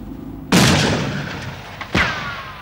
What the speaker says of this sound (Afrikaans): Die skoot wat afgegaan het, het ook die voertuig getref.